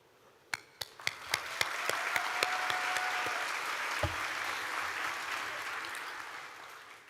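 Applause from a commencement ceremony audience at Hult Dubai, starting with a few sharp separate claps that quickly build into sustained, full crowd applause lasting several seconds.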